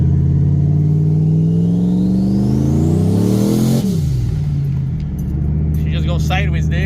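A Ford SVT Lightning pickup accelerating hard in second gear, its engine note climbing steadily to a peak, then cutting off sharply with a falling whir and faint clatter afterward, loud and close.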